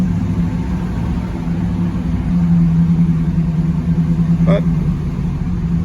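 A 1963 Oldsmobile F85 Cutlass with a Rochester 4GC carburetor runs at a steady, low, rumbling idle after a cold start, loud and close throughout, with a brief voice over it near the end.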